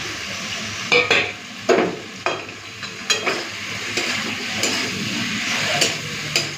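Pieces of fried pomfret go into a pan of mustard gravy, bringing a low simmering sizzle broken by several distinct clunks and scrapes as the fish is dropped in and moved about.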